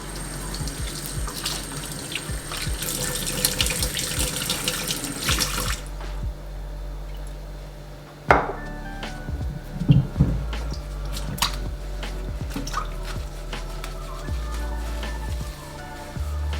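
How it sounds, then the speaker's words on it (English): Pumpkins being rinsed under a running tap with water and apple cider vinegar to clean off soil, a steady splashing stream with wet squishing and handling sounds throughout, close and fairly loud. "going to also give them a bit of a rinse off with some apple cider vinegar"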